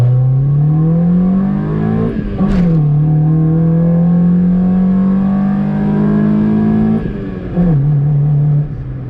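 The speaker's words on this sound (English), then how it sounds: "with a manual EK, you get cool intake sounds" Intake roar of a manual Honda Civic EK with a D16 engine while driving: a steady, loud engine drone that climbs slowly under load, with brief dips around two gear changes.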